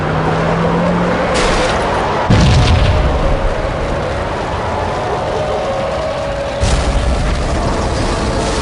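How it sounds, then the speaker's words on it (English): Bomb blasts in the Max Payne video game, set in a slum building: a low booming explosion with a deep rumbling tail, then a later second boom over a loud, steady background roar, with no talking. "Another bomb exploded inside the closest slum building"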